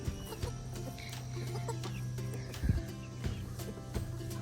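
Backyard chickens cluck softly and intermittently amid low background hum and faint rustling, with one or two louder scratchy bursts near the middle.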